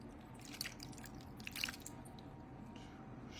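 Sauce poured over a tuna dish gives a couple of brief, faint wet splats and squishy drips, quiet and close, with a soft background hiss and no talking.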